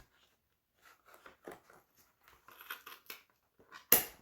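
A single sharp snip of scissors through yarn while trimming yarn hair for a crocheted ponytail hat, preceded by soft handling and rustling of the strands.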